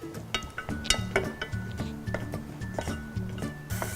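Shallots and ginger garlic paste being mixed in a pan for soupy noodles in coconut broth, with a run of light clinks and scrapes of a utensil against the pan, close and fairly quiet.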